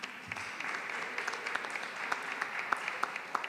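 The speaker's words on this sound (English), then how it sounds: "you can keep on clapping" An audience claps at a business idea event, steady scattered clapping heard faintly and at a distance, with a few sharper individual claps standing out over the soft wash.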